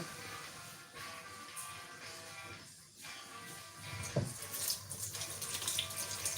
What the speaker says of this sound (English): I'll run that in cold water. I want it nice and clean. So you can see I'm washing it in the sink